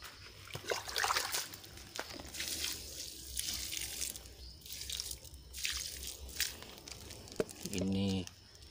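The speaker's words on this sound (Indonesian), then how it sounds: "Karena masih turun dari cangkok, kita siram kurang lebih 1 gayung aja ini." A dipper of fertilizer water is poured onto a young guava plant grown from an air-layered cutting, making soft trickling and dripping sounds under a person's ongoing speech.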